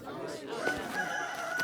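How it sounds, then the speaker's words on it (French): A rooster crows once in a short, strained call over a soft farmyard background, heard at moderate distance. "Les coqs ont la réputation de réveiller les fermes."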